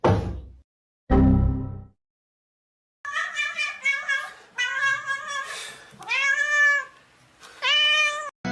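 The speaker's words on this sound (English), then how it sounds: "Meow." A cat meows repeatedly and loudly up close, several drawn-out calls with rising and falling pitch, preceded by a couple of short thuds.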